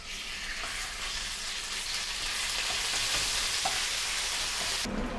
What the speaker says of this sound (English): Heat back on to high and add in your meat.